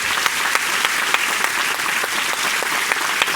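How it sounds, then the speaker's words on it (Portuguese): A church congregation applauds steadily with dense, loud clapping and a few sharper claps standing out, and no voices are heard over it. "pode aplaudir o Senhor Jesus"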